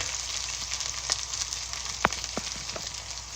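Butter chicken sauce with kasturi methi and cashew sizzling and frying in a pan over high flame, a steady close crackle broken by a few sharp clicks and scrapes of stirring.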